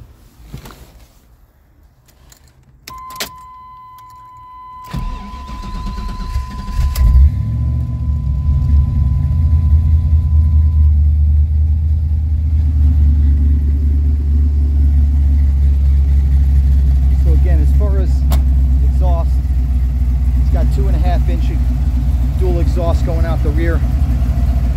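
A 1989 Chevrolet S10 Blazer engine fitted with headers starts after a quiet few seconds and settles into a loud, steady, deep idle rumble that carries on to the end, with faint noises in the background.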